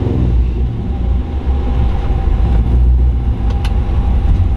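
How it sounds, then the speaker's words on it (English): A supercharged LSA engine in a 1958 Chevrolet Yeoman two-door wagon with a 4L80E automatic rumbles loudly and steadily, revving close up. "we'll just rev it up."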